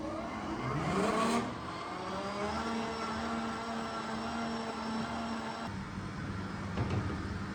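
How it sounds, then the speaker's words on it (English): A SUNKONZ tea extraction machine whirs steadily under its closed soundproof cover while brewing jasmine green tea. A motor tone sweeps up at the start, then holds a continuous hum before a brief shift near the end. "Click the A key to extract tea"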